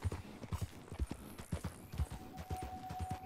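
Rhythmic clip-clop of a horse's hooves while riding in Red Dead Redemption II, close and steady, with a faint tonal hum appearing toward the end.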